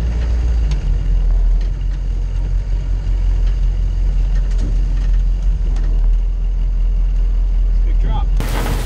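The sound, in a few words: military Humvee driving through tall grass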